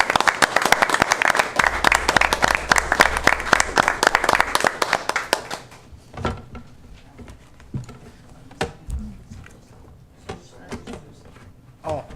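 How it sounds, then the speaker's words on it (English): Applause from attendees at a city commission meeting in Marine City, a dense burst of clapping for about five seconds that then fades into scattered room noise and a few isolated knocks. "Let's give Jonathan another round of applause, please."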